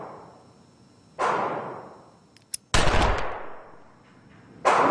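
Gunshots from a handheld firearm ring out at a shooting range: three sharp, loud blasts, each followed by a decaying echo, with a brief click between the second and third.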